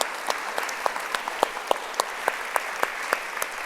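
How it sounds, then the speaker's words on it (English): An audience applauds steadily, with a few sharper individual claps popping out in a loose rhythm above the dense clapping. "So please give them a big round of applause."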